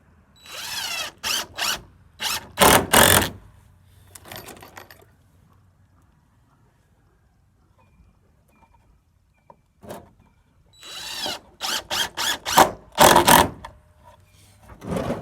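A power drill drives screws into a board of a homemade goat mineral feeder in two clusters of short, loud whirring bursts, separated by a long quiet pause.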